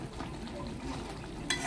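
Meat and cauliflower stirred and frying in a pan with cinnamon and cardamom, a steady close sizzle with scraping stir strokes throughout and a sharper spatula scrape near the end.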